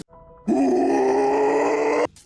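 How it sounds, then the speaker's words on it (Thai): A single loud, drawn-out guttural zombie groan from Call of Duty, rough and sustained for about a second and a half, preceded by a faint low tone. "เสียงซอมบี้ของเกม Call of Duty"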